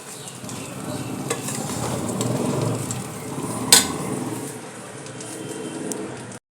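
Rice for pulao frying in a hot pan gives a loud, continuous close sizzle, with stirring scrapes and one sharp clink partway through before the sound cuts off.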